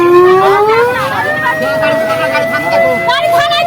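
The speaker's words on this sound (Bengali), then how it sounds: "এই অ্যাম্বুলেন্স চলে আসছে" An ambulance siren wails loudly and close at a road accident scene after a truck and auto-rickshaw collision, its tone rising and holding. An agitated crowd talks and shouts over it.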